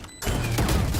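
A Raze satchel charge goes off in Valorant as a sudden loud blast after a quiet moment, followed by a sustained rumbling roar that fills the rest of the moment.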